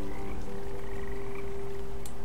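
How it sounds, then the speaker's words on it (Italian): Frogs in the video game Woven croak continuously in a dense, buzzing chorus, close and steady, with a constant low hum beneath them. "quindi ma anche le rane sono di lana nell'acqua?"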